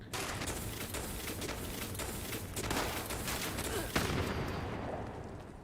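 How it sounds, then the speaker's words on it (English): Sustained gunfire in the Fallout 76 game world, a dense crackle of repeated shots over a steady background, with a sharper crack near the four-second mark and no clear talk. "Who's shooting?"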